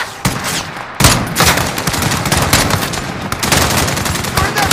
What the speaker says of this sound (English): Philippe, open fire!